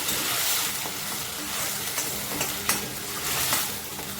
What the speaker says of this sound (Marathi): कांद्यातलं सर्व पाणी सुकेपर्यंत आपल्याला छान कांदा गुलाबी रंगावर परतून घ्यायचा आहे